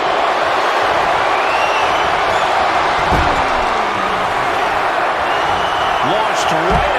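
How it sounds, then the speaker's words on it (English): An arena crowd roars steadily in a WWE 2K26 wrestling video game match, a dense wash of cheering with occasional thuds of bodies hitting the mat, under commentator talk. "What a raucous crowd here tonight."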